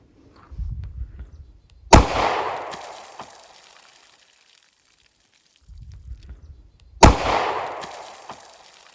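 Two separate gunshots fire Winchester Ranger 180-grain .40 S&W rounds, spaced about five seconds apart. Each sharp crack is preceded by low handling rumbles and trails off in a long, echoing decay.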